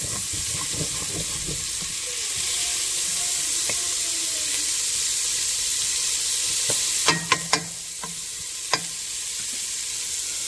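Onions sizzle and fry in a soup pot for Zuppa Toscana, a steady close crackle with a few scraping clinks of a utensil against the pot bottom near the end.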